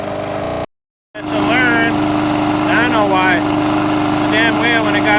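A remote control lawn mower's small engine runs loud and steady, buzzing with rising and falling revs as the throttle varies, cut by a brief silent gap near the start.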